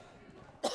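A single short, sharp cough close to the microphone, following a stretch of quiet room noise.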